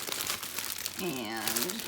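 Red, white and blue decorative craft paper crinkles as it is opened, a close, busy rustling that runs throughout while someone speaks briefly over it.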